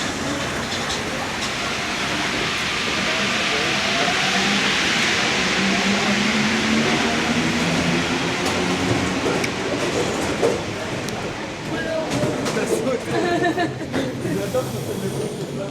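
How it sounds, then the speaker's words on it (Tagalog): A train pulls into a station in Paris, a loud, steady rumbling roar with hissing and rolling wheel noise that fills the whole stretch, faint voices mixed in beneath. "Sakto dating ko, nandiyan na yung train."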